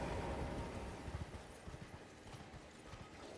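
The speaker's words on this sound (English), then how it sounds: "Can my horse even go on this on the water like that?" Horse hooves splash and clop through shallow water in Elden Ring, a steady, busy rhythm of close, fairly loud hoofbeats over a wash of water sound, with no talking.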